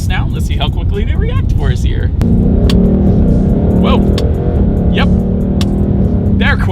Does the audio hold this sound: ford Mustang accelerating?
yes